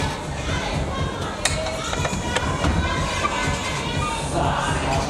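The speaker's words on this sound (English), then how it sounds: "Getting cheered on from the crowd as he gets in this position." A large crowd at the IFSC World Cup climbing semi-finals in Morioka, Iwate cheers and shouts encouragement for a climber on the lead route, a steady roar of voices filling the venue with scattered louder whoops.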